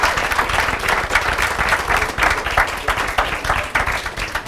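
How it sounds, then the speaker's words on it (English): An audience at a panel discussion on worker cooperatives and good jobs applauds the panelists, a loud, steady burst of many hands clapping together that carries through without a break. "I want to give our panelists a round of applause"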